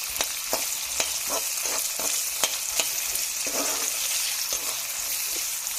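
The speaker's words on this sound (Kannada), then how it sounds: "ಕಟ್ ಮಾಡಿಟ್ಟ ಒಂದು ಈರುಳ್ಳಿ ಹಾಕಿ ಚೆನ್ನಾಗಿ ಮಗ್ಸ್ಕೋಬೇಕು" Chopped onion hits hot oil with cumin and curry leaves for crab fry, crackling in a lively close sizzle while a spatula scrapes and knocks against the pan in irregular sharp strokes.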